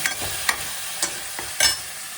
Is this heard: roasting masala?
yes